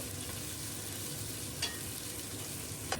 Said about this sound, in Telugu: ఇంకా అల్లం వెల్లుల్లి పేస్ట్ కూడా పచ్చివాసన పోయినంత వరకు ఫ్రై అవ్వనివ్వాలి.